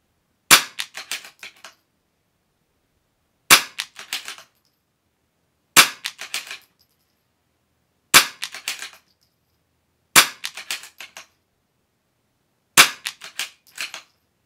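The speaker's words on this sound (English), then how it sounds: "Ammo seems like it's shooting pretty good despite the cooler conditions." Six sharp rimfire rifle shots from single-magazine ammunition testing in cool weather, each a crisp crack followed by a short rattling echo, spaced about two to three seconds apart with silence between, no talking.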